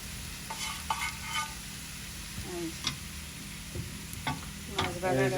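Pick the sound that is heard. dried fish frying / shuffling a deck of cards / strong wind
dried fish frying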